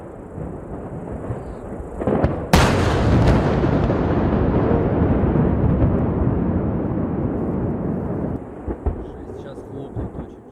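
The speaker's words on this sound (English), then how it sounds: "That is the sound from an eyewitness video on YouTube of a large explosion at the Nonoska missile test site in the Arkhangelsk region" A large explosion at a missile test site in Russia's Arkhangelsk region, heard from a distance as a sudden sharp crack followed by a long, loud rolling rumble that slowly fades.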